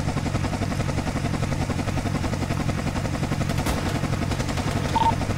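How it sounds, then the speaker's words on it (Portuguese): Dense, continuous automatic gunfire in the GTA FiveM game during a police operation to recover a stolen patrol car in Fazendinha, rapid rattling bursts over a low rotor-like drone, loud and unbroken. "Muito tiro aqui da frente, mano."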